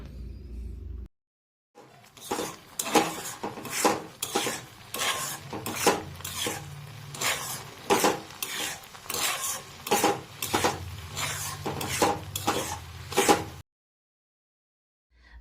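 Prawns and jackfruit being stir-fried over high flame in a pan, heard as repeated rhythmic scraping and clattering of a spatula against the metal, close and moderately loud between quiet gaps.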